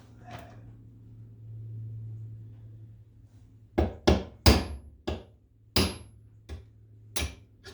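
Eight sharp metallic hammer taps in an uneven sequence, close and fairly loud, during a center roller replacement on a 2005 Honda Odyssey, following a few seconds of quiet low hum.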